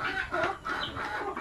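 Native chickens cluck in a brief, close burst of overlapping soft calls, with nobody talking.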